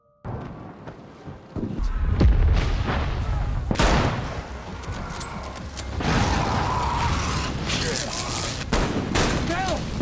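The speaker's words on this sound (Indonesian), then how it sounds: "Namun naasnya Bill terkena tembakan" Gunfire from robbers raiding a house in The Last of Us TV series: loud bursts of rapid shots and heavy booms, nearly continuous for ten seconds.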